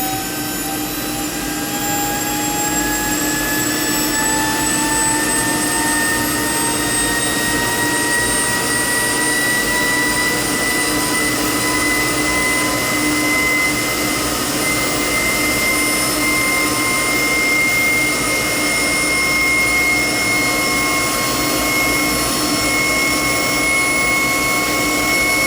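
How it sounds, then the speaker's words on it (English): A generator engine running under load, producing 10 kilowatts: a loud, steady drone with a constant whine and mechanical hum, running continuously without pause and no voices. "This engine is now pumping out 10 kilowatts"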